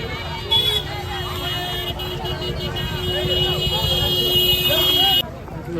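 Dense traffic rumbles along the road near the Chotila Chamunda temple, with a long steady horn tone and crowd chatter mixed into the constant vehicle noise while a voice speaks over it.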